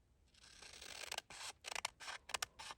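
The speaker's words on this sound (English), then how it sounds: "Let's trim off the edge just a bit more." Scissors trim the edge of paper inserts for a pocket Moleskine notebook, giving a close, quiet series of short crisp snips and rustles in an otherwise silent room.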